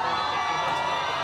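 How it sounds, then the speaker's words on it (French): A crowd cheers and shouts for Tom Hanks at the Toronto International Film Festival, a dense, steady roar of many voices with excited whoops held loud and close throughout. "Bain de foule pour Tom Hanks au Festival international du film de Toronto"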